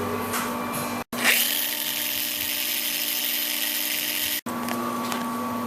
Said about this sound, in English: we're drilling out this hole, and this hole, only the tapered holes